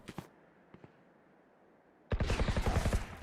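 Rapid burst of gunfire from a shooter video game, loud and dense in the last second, after a quiet stretch with a few faint clicks at the start.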